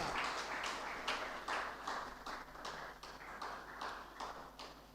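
An audience at a university students' forum claps for a professor, a steady, evenly pulsing round of applause that fills the whole stretch at moderate level.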